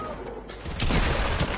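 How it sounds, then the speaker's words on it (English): Gunfire in the video game Fortnite: a couple of dense, crackling bursts of shots close by, rising out of a quieter game background with no talk. "Where did I get shot from?"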